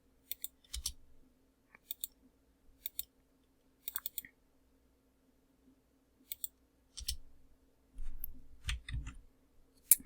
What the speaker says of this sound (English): so we're going to double click